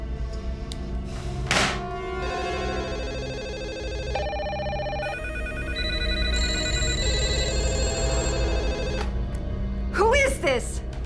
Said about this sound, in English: the phone is ringing every 90 minutes.